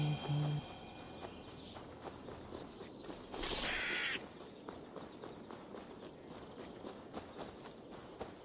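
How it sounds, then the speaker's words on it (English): Crows caw in Assassin's Creed Valhalla, a loud bright burst of cawing from a flock standing out over steady game ambience and hoofbeat-like footsteps, with a brief sound at the start. "That's a lot of birds."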